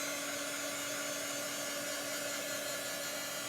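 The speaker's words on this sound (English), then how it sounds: "my little dryer here is a heat gun" Heat gun blowing hot air to dry chalk paste on a hexagon board, a steady, close whirring roar with a constant motor hum running unbroken throughout.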